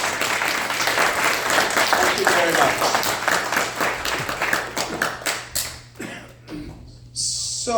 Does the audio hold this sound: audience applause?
yes